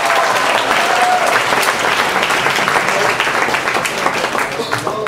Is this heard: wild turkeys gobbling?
no